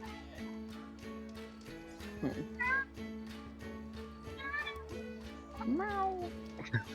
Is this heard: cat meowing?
yes